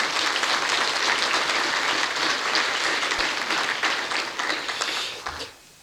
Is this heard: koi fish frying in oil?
no